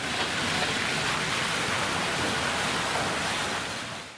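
Heavy rain pours steadily during a thunderstorm over Aruppukottai, a dense, even roar of falling water from start to finish with no distinct thunderclap standing out.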